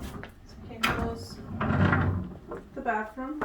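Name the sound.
sliding barn door closing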